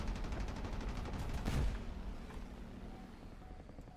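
Enemy aircraft strafing with gunfire in the air combat video game War Thunder, a rattling burst of rapid shots building to a loud peak, then fading into engine drone.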